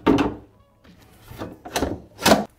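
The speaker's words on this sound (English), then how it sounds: "we're gonna go ahead and open up the rails, set the drawer right on top, connect it to the fasteners, and then the drawer will be installed" A wooden drawer is set onto the cabinet's metal rails and fasteners, giving several close knocks and sliding clunks in an uneven rhythm, with quiet gaps between them.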